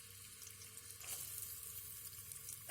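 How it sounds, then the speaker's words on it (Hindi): A small onion frying in oil in a pan for chana dal, a faint, even sizzling hiss that holds steady throughout. "अब यहाँ पर जो है मैं इस प्याज की भुनाई करूँगी"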